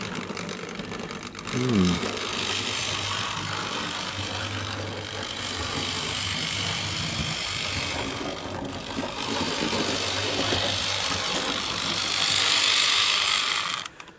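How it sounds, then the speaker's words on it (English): A small electric motor hums and whirs steadily with faint mechanical clicking from a Trix model locomotive running on track, with a low drone underneath. "This is actually a Trix locomotive."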